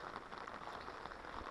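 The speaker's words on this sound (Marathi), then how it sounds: "आणि पाऊस तर थांबतच नाही आहे." Steady rain falling at Sajjangad fort near Satara in foggy weather, a soft continuous patter with faint drops, heard without talk.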